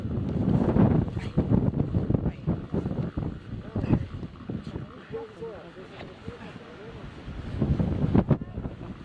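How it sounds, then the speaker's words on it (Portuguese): Strong wind gusts buffet the microphone outdoors in Bariloche, with loud, rushing, uneven surges that rise and fall over several seconds. Speech can be heard under the wind. "Ai, que ventania."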